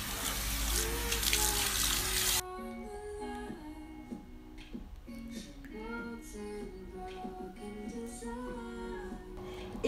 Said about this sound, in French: n'oubliez pas de le rincer abondamment. Avec de l'eau tiède et terminez avec de l'eau froide